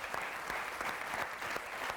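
A studio audience on a TV quiz game show claps in a dense, steady burst of applause lasting throughout, close and lively, with no voices over it.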